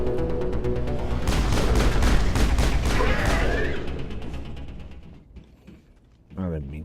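Shotgun fire in the sci-fi game Mass Effect, a rapid run of loud booming blasts that fades out, followed by a brief voice.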